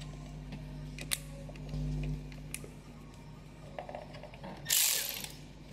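Ratchet tool clicks quietly as two screws are driven back in after replacing an ignition coil during a car misfire repair. Sparse pawl ticks are close and faint, with a louder, brief rasping burst near the end.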